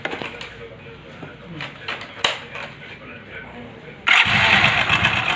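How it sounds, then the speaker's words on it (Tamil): Motorcycle engine with a worn timing chain, idling with a rough, busy rattle at first, then jumping to a much louder, harsher rev near the end; a voice speaks over it. "அப்படியே உள்ளே எதோ கொட்டின மாதிரி சவுண்டு கலக்கலன்னு பயங்கர சவுண்டு அதிகமாக இருக்குது"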